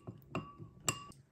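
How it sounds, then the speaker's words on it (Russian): A spoon stirs a syrup of jam and hot water for soaking a rum baba, giving about four light, separate glassy clinks spaced over a second, quiet and close with no talk. "Перемешаем."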